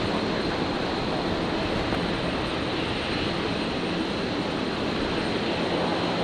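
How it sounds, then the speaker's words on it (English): A rescue helicopter makes its approach at Brisbane airport, heard as a steady, loud, broadband engine and rotor roar that fills the whole stretch without letting up. "it sounds like the rescue chopper"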